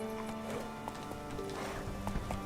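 Horse galloping in the video game The Witcher 3, a quick rhythmic clip-clop of hooves close up over steady game music.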